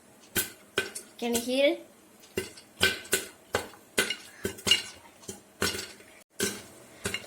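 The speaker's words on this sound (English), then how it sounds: "I think you can hear the sound of the popcorn hitting this lid." Homemade popcorn popping in a pot, kernels striking the metal lid in sharp irregular clinks and taps, close and fairly loud, with a brief spoken question near the start.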